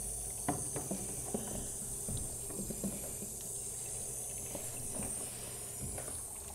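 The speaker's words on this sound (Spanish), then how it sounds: "Ahí va saliendo el agua." Water and air hiss out of a home radiator as it is bled, a steady close rush of running water with a high airy hiss on top and a few faint knocks.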